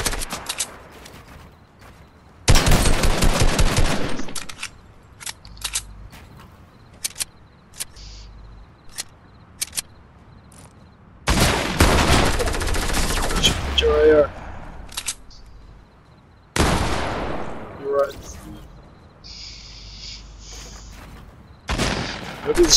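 Bursts of assault rifle fire in a Fortnite match, several long loud volleys and short single shots spread across the stretch, with quieter game sounds between them.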